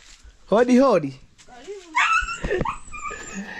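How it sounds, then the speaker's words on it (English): A dog whines in a rising-falling wail, then breaks into excited yelps and whimpers, close and loud. "You heard my crazy dog."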